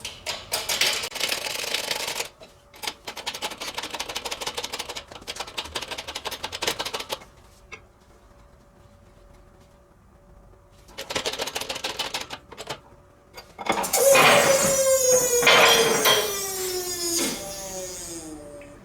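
Swivel pin being pressed into the front suspension of an MG TD during a rebuild: bursts of rapid mechanical clattering separated by pauses, ending in a louder, sustained whine with sweeping tones.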